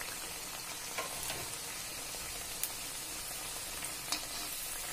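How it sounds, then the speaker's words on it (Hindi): Sattu-stuffed kachoris, three at a time, fry in hot oil over a medium gas flame, giving a steady, dense sizzle with occasional small pops, close and even throughout, with no talking. "अब आइए इसको तल लेते हैं। तेल मेरा गर्म हो चुका है। मैं एक बार में 3 कचौड़ियां डाल लूंगी।"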